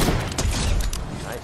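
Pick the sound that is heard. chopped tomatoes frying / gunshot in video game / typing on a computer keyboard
gunshot in video game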